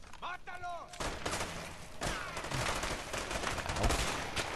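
Rapid gunfire from the video game A Way Out, dense bursts of shots with echoing reports filling the whole clip, loud and continuous, with a brief voice-like sound near the start.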